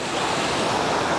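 Festooned Falls in the Otways pours in a dense, continuous roar of falling water, loud and close with no break, nothing else audible over it.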